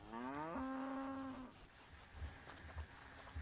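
A cow moos in the video game Unturned, one long rising low bellow up close, followed by quieter game ambience with faint thumps.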